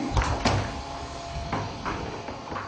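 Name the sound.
heavy State House door opening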